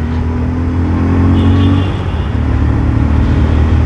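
A 2023 Bajaj Pulsar 125 fi BS7 motorcycle engine held above 4000 RPM, a loud, steady, close-up droning rev that eases slightly midway, then keeps pulling.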